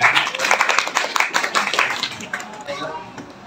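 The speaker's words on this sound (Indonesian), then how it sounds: "Tepuk tangan buat semuanya." Brief classroom applause, a burst of many hands clapping that fades out over a few seconds, with voices mixed in.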